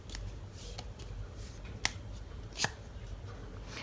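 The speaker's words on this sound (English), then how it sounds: "I'm going to be shuffling a couple of cards on camera to see any extra messages coming forth." Tarot cards are shuffled by hand close up, producing soft riffling and brushing with a couple of sharp snapping clicks over quiet room noise, and no talking.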